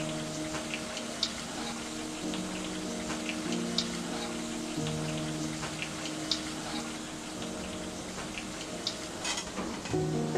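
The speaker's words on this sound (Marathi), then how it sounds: "अशाच पद्धतीने मी सगळ्या वड्या तळून घेते" Cabbage vadi fritters frying in hot oil, a steady close crackle and sizzle with scattered pops throughout, over a faint constant tonal hum in the background.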